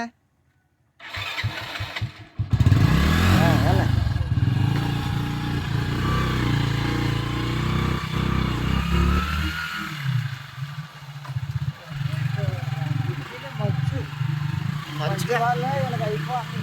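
A new motorcycle's engine cranks and starts, then runs at a steady idle with small revs, close by, while people talk over it.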